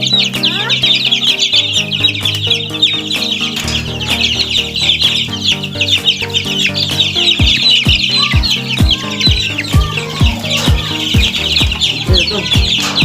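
Two-week-old chicks cheep constantly and loudly from close by in a mini range, and adult hens cluck in lower tones underneath them.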